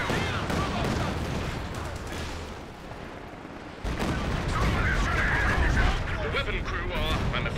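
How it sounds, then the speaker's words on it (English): A Stuka dive bomber barrage rumbles in the Company of Heroes 2 multiplayer match on a winter map, with a steady wash of explosions and gunfire that grows louder halfway through, while a commentator talks over it. "massive Stuka barrage clears out 2 team weapons there"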